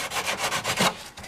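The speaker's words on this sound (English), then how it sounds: "And I will just trim that up with a little sandpaper." Sandpaper rubbed by hand over a motorcycle fairing repair on a Ninja, with carbon fiber repair work, giving steady back-and-forth scratchy strokes at close range with no talking.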